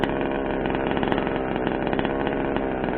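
The petrol engine of a Rovan Baja 1/5-scale RC buggy runs loud and close, a buzzing, raspy two-stroke drone held steady with fast pulsing throughout.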